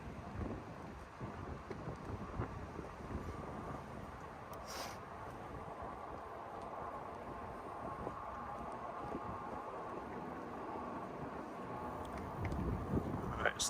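Strong wind buffets the microphone in a steady, continuous roar while an e-bike rides beside the Chattahoochee River in downtown Columbus, Georgia, with no talking and the gusting rising slightly near the end.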